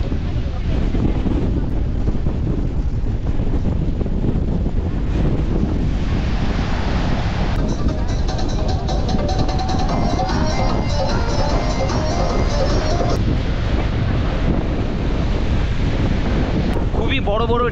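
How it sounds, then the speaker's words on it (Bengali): Strong wind and big waves at Digha sea beach, a loud, continuous roar of surf with heavy wind buffeting the microphone throughout. "বড় বড় ঢেউ, আর দাঁড়ানোর মতো পরিস্থিতি নেই। হাওয়া এত জোরে আসছে কি নিজেকে মানে ঠেলে ফেলে দিচ্ছে।"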